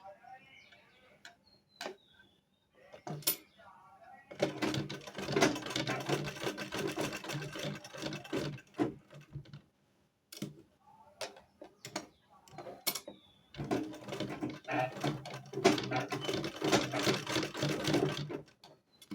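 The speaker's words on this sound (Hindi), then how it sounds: "दोनों साइड को इस तरह से ही सिलाई कर देनी है।" A sewing machine runs in two long bursts while stitching both sides of a baby frock. Each burst is a fast, even mechanical rattle, close and clear, separated by quieter pauses with light clicks and handling.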